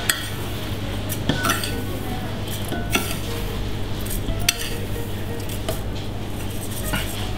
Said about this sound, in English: And in this container, I'm gonna put 6 heaped teaspoons in there.